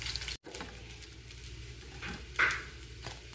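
Chicken spring rolls frying in hot oil give off a steady, soft sizzle throughout, with a brief break near the start and a slightly louder crackling swell toward the end.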